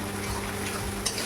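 Spice masala with red chilli powder, Kashmiri chilli powder and whole garlic fries in a pan, a dense continuous sizzle close up with a faint stirring scrape near the end, brief and without speech.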